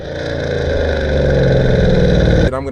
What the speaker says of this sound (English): This thing is loud as shit.